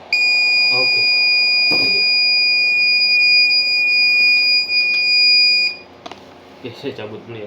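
An Arduino Uno data logger's alarm buzzer shrills in a loud, steady piercing tone for about six seconds before cutting off, with a person talking over it and afterward.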